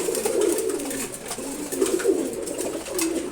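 A racing pigeon of a foreign bloodline coos in repeated soft, throaty rolls, several phrases in a row, close by and alone at a pigeon farm.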